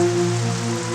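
Heavy rain falls in an unbroken wash of steady hiss, close and even throughout the short moment, with no one speaking.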